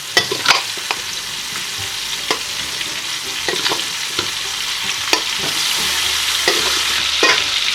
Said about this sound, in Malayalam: ചട്ടിയിലോട്ട് ഇട്ട് കൊടുത്ത് ഫ്രൈ ആക്കി ഇടാം.